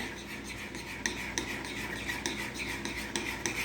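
Metal spoon stirring and breaking up whole eggs and yolks in a bowl for a key lime pie, soft repeated scraping and clinking strokes close by over a low steady background hum.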